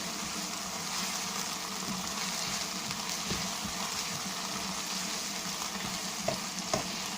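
Mushroom masala fries in oil while being stirred, a steady close sizzle with soft scraping stirs and a couple of light clinks near the end, no talking.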